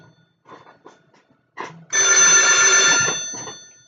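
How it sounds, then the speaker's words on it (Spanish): A telephone bell rings in a loud, steady burst after a few softer clicks and taps, close by and with no talk over it. "está sonando el teléfono"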